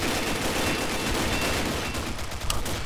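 Rapid gunfire in the Combat Arms shooter, a dense fusillade of overlapping shots crackling continuously with a sharper burst near the end.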